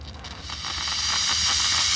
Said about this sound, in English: that's going to give you a big burst of water